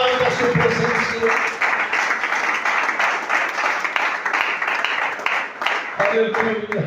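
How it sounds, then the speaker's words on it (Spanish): A church congregation claps steadily for several seconds, a dense and fairly loud wash of applause, with a voice speaking at the start and again near the end. "Alguien que aplauda su presencia, alguien que aplauda su presencia."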